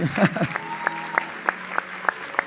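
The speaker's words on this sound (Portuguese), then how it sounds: "Um aplauso para esses líderes maravilhosos." A church congregation applauds its pastors, giving steady rhythmic clapping in regular beats beneath music and voices, after a brief jumble of sound at the start.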